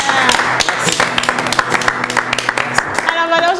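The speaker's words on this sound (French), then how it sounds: "on applaudit une fois encore parce que c'est extraordinaire" Audience applause at a French talk show, clapping steady and fairly loud throughout, with voices talking over it.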